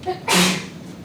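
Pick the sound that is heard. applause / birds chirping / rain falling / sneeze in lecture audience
sneeze in lecture audience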